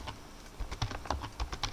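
Fast typing on a computer keyboard during a Linux and Vim lesson: a quick, uneven run of crisp, close key clicks with no voice over them.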